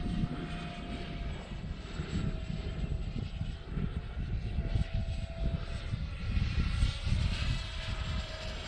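A Freewing F-16 Arctic RC model jet whines through the air in a continuous ducted-fan hum, partly masked by strong gusty wind rumbling across the microphone.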